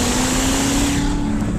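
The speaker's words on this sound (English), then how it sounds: "Valves in the exhaust open up." A Corvette ZR1 at full throttle with its exhaust valves open gives a loud, sustained engine and exhaust roar holding a steady pitch throughout.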